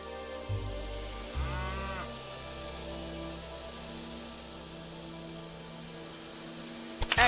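Cattle lowing at a ranch in Railway Empire 2, two deep moos near the start over a steady ambient hum, then a long stretch of quiet background.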